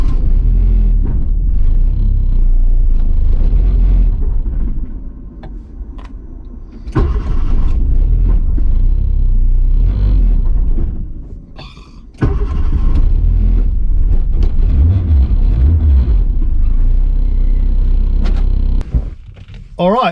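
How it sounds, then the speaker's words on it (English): A turbocharged Honda Civic EK running on E85 with a Haltech ECU on its first drive: loud engine rumble and cabin noise rise and fall across several revving stretches, with people talking over it. "the car drives, it turns on, it runs, it's running E85"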